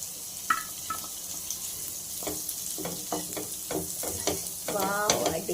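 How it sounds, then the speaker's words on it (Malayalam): Fried prawns are stirred into sizzling masala in a pan, giving a bright frying hiss broken by repeated clattering scrapes of a spoon, close and fairly loud. "ഇനി നമുക്ക് വറുത്ത് വെച്ചിരിക്കുന്ന പ്രോൺസ് ഇട്ട് കൊടുക്കാം."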